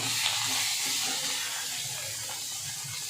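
Chili paste with cumin, turmeric and spice powders fries in a pan for catla fish curry. A steady, close, dense sizzle hisses throughout with no pauses.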